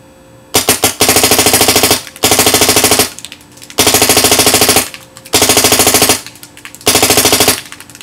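BT TM-15 paintball marker firing full auto in several long bursts, each a rapid rattling string of shots lasting about a second, separated by short quiet gaps, loud and close with no talk.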